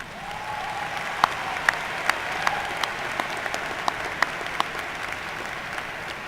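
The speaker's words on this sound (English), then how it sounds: "Let's give him a warm round of applause." Warm applause from a large crowd at a university spring commencement ceremony, a soft steady wash of clapping with a few sharp individual claps standing out, heard at a distance.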